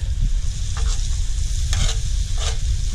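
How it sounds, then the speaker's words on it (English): Butter sizzles steadily in a hot skillet with homegrown garlic and picked rosemary, a dense continuous crackle with a few brief louder spits and pops, close and alone. "Let that butter do its thing in a hot skillet."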